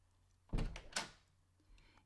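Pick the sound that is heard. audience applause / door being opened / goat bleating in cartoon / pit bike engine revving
door being opened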